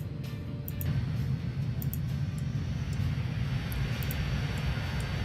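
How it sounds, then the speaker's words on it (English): A Comet airliner in the Transport Fever game drones with a steady, low, roaring engine rumble and airy hiss that holds level throughout, with a few faint clicks above it and no talk. "Such a lovely plane."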